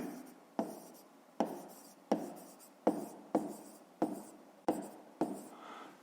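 A pen or marker scratches out an equation by hand for a grade-five math exercise, about eight regular strokes, each a crisp attack fading into a scrape, close and fairly quiet with no talking.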